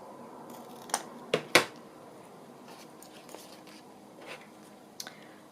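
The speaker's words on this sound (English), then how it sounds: "I'm just going to cut across the top there as well." Scissors cutting across the top of a journal page, a few sharp close snips with paper rustle between them, then quieter handling sounds and one last small snip.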